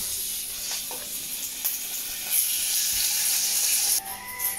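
Chicken pieces fry in a pan with a steady, bright sizzle and hiss that swells slightly midway and dips briefly near the end, close and continuous with no talking.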